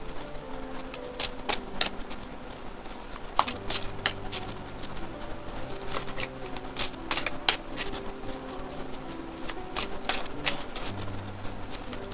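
Tarot and oracle cards being shuffled and drawn from a deck, with soft papery flicks and light snaps repeating steadily at close range, no voices.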